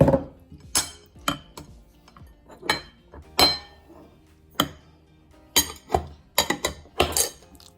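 Chicken sandwich spread, Pinoy style, is mixed in a bowl: a spoon scrapes and clinks against the sides in irregular bursts, close and crisp, with quiet pauses between strokes.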